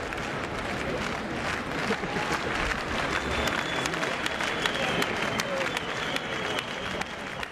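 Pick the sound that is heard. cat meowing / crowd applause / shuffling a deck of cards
crowd applause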